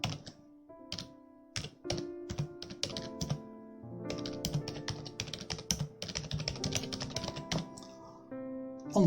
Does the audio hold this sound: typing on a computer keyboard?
yes